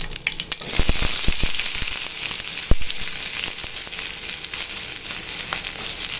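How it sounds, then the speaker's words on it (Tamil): Small shallots dropped into hot oil where mustard seeds have popped fry with a loud, steady sizzle, broken by sharp scraping clicks of a spoon stirring them in the pan. "இப்போ சின்ன வெங்காயத்தை போட்டுக்கலாம்"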